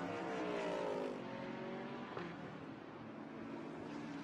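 GT-X race cars, including a Mercedes, roar past at Lime Rock in a 2018 Pirelli World Challenge round, with a loud engine note sweeping and fading, then a second car passing more distantly.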